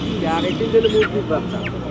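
Short calls of roosters and hens and high peeps of chicks sound amid busy chatter at a rural village market, with people talking nearby.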